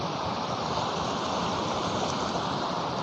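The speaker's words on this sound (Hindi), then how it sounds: "वो पानी यहाँ नाले से होते हुए ये गंगा जी में आकर के प्रवाहित हो रहा है।" Dirty drain water flows steadily into the Ganga at Deen Dayal Upadhyaya Nagar in Chandauli district, a loud, continuous rushing wash with no pauses and no voices.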